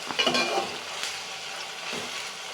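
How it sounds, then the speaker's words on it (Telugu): Dried fish fries in hot oil in a pan for a tomato and egg curry, giving a steady soft sizzle with a few scraping stirs and light utensil clinks near the start, no voices. "మాడకుండా కొంచెం దగ్గరుండి మనం ఇట్లా ఫ్రై చేసుకోవాలన్నమాట"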